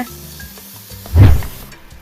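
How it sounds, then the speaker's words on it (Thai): Durian core stir-fried with holy basil seasonings sizzles and scrapes in a pan, with a brief louder stir at the midpoint, close up and without talking. "เราจะผัดทุกอย่างให้เข้ากันดีนะคะ"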